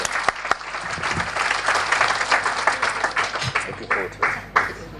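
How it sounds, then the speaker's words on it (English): An audience at a community showcase applauding a guest, dense clapping that swells and then thins out, with a voice speaking over it toward the end. "So let's get some applause here for Rensha"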